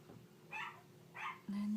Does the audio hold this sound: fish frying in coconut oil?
no